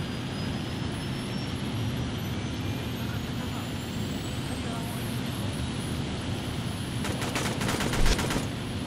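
Blind-fire gunshots in the shooter game Unit 13 come as a short rapid burst of sharp shots near the end, over steady, hissy in-game background noise.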